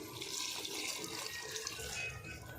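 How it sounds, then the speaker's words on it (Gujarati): Water is poured into a cooking pot of spiced corn curry, giving a brief, fairly quiet rush of splashing and gurgling with no voices. "આપણે સોતા પૂરતી પાણી નાખી દીધું છે"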